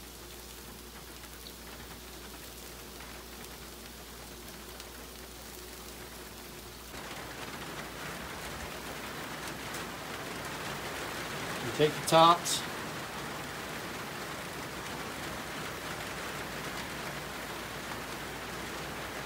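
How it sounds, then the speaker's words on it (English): Steady rain hiss that thickens partway through, with a few brief louder spatters, while a person speaks briefly over it. "I don't know if you guys can hear that rain in the background"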